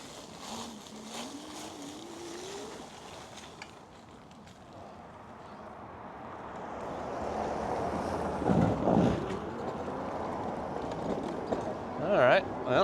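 Wind buffets the microphone in low, rumbling gusts that swell and fade during a ride, with a voice talking faintly underneath.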